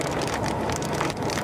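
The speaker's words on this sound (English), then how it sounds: "How big is this hail?" Hail pelts a car during a storm chase, a dense, steady rattling patter on the vehicle that stays loud and continuous throughout, with no speech.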